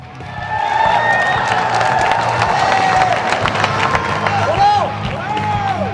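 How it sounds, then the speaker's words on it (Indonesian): A crowd at a One Pride MMA fight event applauds and cheers after a bout, with loud clapping and shouts swelling after a quiet start and then staying strong, while tonal ringing sounds weave through. "Sekali lagi kita beri tepuk tangan yang paling meriah."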